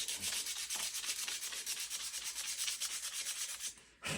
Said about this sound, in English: So we just come in here and we'll sand some of that out. Get it off the handle.